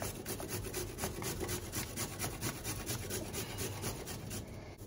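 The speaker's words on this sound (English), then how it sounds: "I'm just grating some carrot now" A carrot is scraped over a grater in quick, regular rasping strokes, close and clear with no talk.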